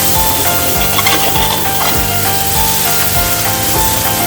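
Masala for baigan bharta frying in a pan, a steady loud sizzle and hiss with regular scraping strokes of a spatula every half second or so, close up and with no talk over it.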